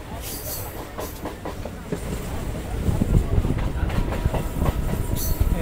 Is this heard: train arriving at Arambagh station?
yes